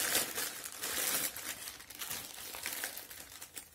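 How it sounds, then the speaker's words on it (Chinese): DJI Osmo Pocket packaging is torn open, producing dense, close crinkling and crackling of plastic wrap in irregular bursts throughout, with no talking. "咱先把它撕开。"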